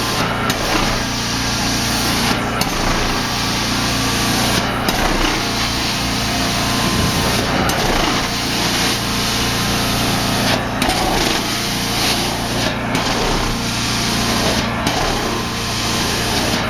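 An Amtex Inferno Command Pro 14 carpet extractor runs with a loud, steady motor whine and roar, broken by regular brief dips every couple of seconds as the wand is stroked.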